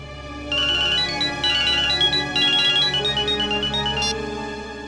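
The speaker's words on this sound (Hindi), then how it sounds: "ये कौन फोन कर रहा है और क्यों?" A phone ringtone plays alone: a bright, repeating electronic melody of short chiming notes that starts abruptly, loops for about three and a half seconds and then stops.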